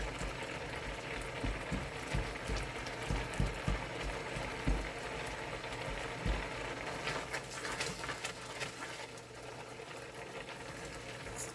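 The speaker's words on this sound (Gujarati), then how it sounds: "આ રીતે આપણે હલાવતા રહીશું." Carrot halwa cooking in a pan is stirred with a spoon, giving a run of scraping, clicking strokes over a soft bubbling hiss. The sound is close and fairly quiet, with no speech.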